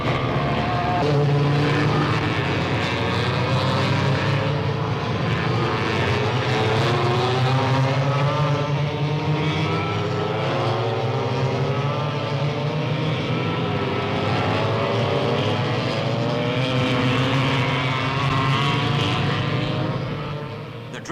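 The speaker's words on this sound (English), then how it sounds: "the karts can lap at well over 40 miles an hour and do a lot more in the short straights" Go-karts racing around a track at RAF Lakenheath in 1964, a continuous loud engine drone with rising and falling pitch sweeps as the small engines pass, steady and dense throughout.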